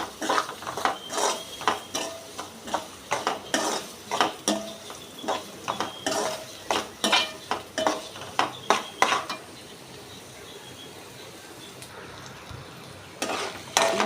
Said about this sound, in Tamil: நல்லா பொன்னரமாக வதக்கிட்டு கொஞ்சோண்டு இஞ்சி பூண்டு பேஸ்ட் போட்டுக்கணும்.